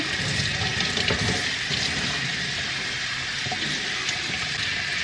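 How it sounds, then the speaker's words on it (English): A handheld shower head sprays a steady, hissing stream of water while rinsing conditioner off a Goldendoodle puppy, a close continuous wash with no talking. "this shower head really, really works very well, because you can control the flow"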